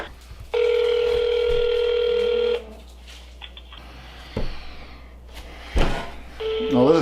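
An outgoing call to a car dealership's service department gives a long flat ringback tone, then a quieter stretch with faint clicks and a voice, then the tone starts again.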